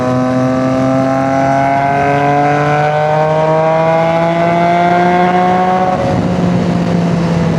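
A Yamaha MT-09 motorcycle engine runs loud and close, a steady droning idle with a slight pitch drop near the end, with no other sounds present.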